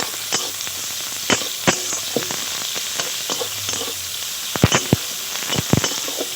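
Onion and garlic paste frying in a pan gives a steady close sizzle, with occasional sharp pops and spatters scattered throughout; no talking.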